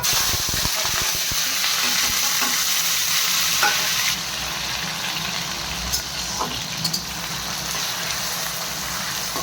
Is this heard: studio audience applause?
no